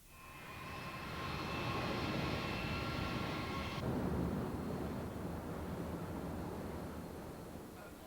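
Boeing 747-400 airliner engines, a broad rushing jet roar that swells and then eases, with a high whine that drops out partway through, moderately distant and steady.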